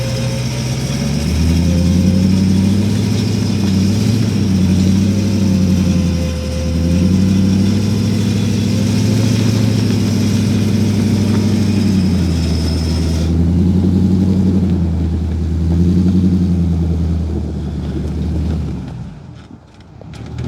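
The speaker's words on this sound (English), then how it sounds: "He's gonna winch on it and drive at the same time," A 9902 truck's engine runs loudly and steadily during a winch recovery of a stuck truck, its low drone rising and easing in repeated surges before cutting off near the end.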